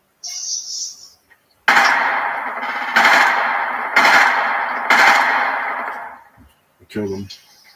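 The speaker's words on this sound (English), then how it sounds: "Who the fuck else is shooting at me?" Bandit gunfire in Metro Exodus: four loud, evenly spaced bursts of shots with a reverberant tail that fades after each one. A short speech-like sound comes before them and another follows at the end.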